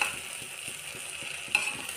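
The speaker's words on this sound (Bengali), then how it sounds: "সব কিছু দিয়ে এবার চালটাকে ভেজে নিচ্ছি" Rice being stir-fried with other ingredients in a pressure cooker, a steady soft sizzle with faint regular scraping strokes of stirring, close and continuous with no voices.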